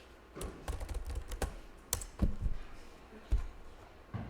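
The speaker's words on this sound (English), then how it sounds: "if I type something random at this stage" Keys clatter on a computer keyboard in a short, irregular burst of typing, close and fairly quiet, with a few louder taps among lighter ones.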